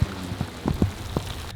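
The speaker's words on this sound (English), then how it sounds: "it is raining pretty good right now" Heavy rain falls during a fishing trip from a small boat, giving a steady close patter with scattered louder drops and thumps. No one speaks.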